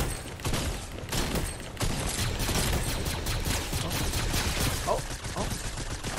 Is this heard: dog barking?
no